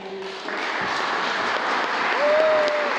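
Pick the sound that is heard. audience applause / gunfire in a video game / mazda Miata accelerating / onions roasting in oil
audience applause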